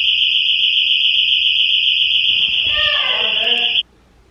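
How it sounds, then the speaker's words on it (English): A house alarm sounds loud and steady as a continuous high electronic tone, then cuts off abruptly near the end, with voices starting to talk over it just before it stops. "Our alarm, our house alarm went off."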